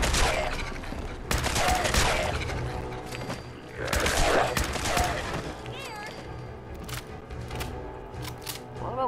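Rapid bursts of gunfire in Fallout 4, loud and close, with clusters of shots and scattered sharp cracks, over a clattering game background with some talk mixed in.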